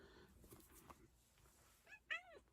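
A house cat meows once, fairly close and quite clear, near the end after a few seconds of quiet room noise and soft indistinct voice.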